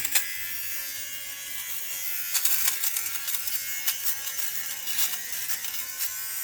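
An electric fabric shaver buzzes steadily up close, trimming loose bits of suede from a shoe, its tone shifting and crackling as it catches and cuts material.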